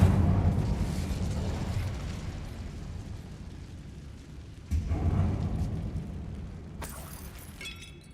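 Incendiary spell in Hogwarts Legacy, cast inside a mine: a heavy booming burst sets off a long roaring rumble, then a second blast follows with crackling, shattering debris near the end.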